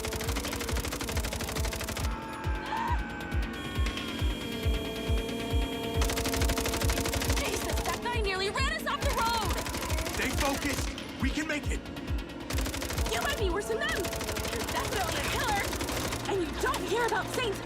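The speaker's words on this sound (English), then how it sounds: "saints firing machine guns at mercenaries" Rapid gunfire bursts in the Mindseye video game as saints fire machine guns at mercenaries during a driving chase, repeated volleys over loud game music and engine noise, with someone talking over the action.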